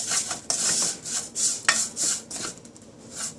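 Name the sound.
stirring vermicelli roasting in desi ghee in a pan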